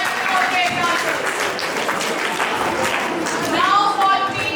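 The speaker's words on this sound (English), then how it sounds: "Clap for team A." Audience clapping for a team at a school space science quiz competition, steady dense applause mixed with voices and cheering, loud and close throughout.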